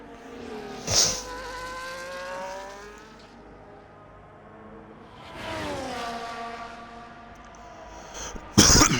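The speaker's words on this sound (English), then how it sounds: "Sorry about the cough, guys." A single short cough near the start of sim racing commentary, then long stretches of a droning race car engine buzz, ending with a sharp burst of noise.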